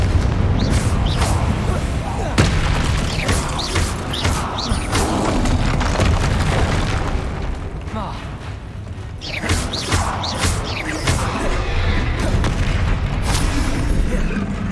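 Confringo fire spell explosions in the video game Hogwarts Legacy during a troll fight, a loud, dense run of repeated booms over a constant heavy rumble.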